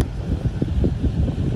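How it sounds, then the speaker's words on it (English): Outdoors on a windy morning, a loud truck idles nearby, a low rumbling drone with uneven pulsing and wind buffeting the microphone. "that super loud idling truck behind me"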